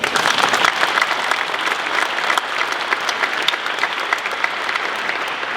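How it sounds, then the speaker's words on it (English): A room full of people at a press event clap steadily for several seconds, a dense, loud wash of applause that tapers slightly but continues throughout. "We can clap for her too."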